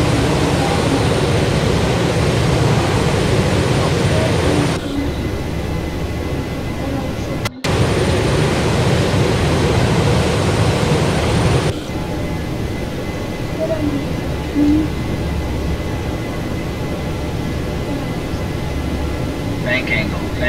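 An airplane takes off at Lamoal airport in the X-Plane 11 flight simulator, giving a loud, continuous engine roar that drops to a lower, steady drone partway through.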